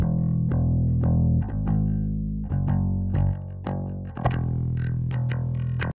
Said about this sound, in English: we had this electric bass that Spencer tracked, and here's kind of what we had